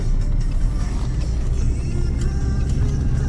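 A 2020 Lada Granta liftback with an automatic transmission pulling away, its engine a steady close drone and low rumble with road noise, no talking.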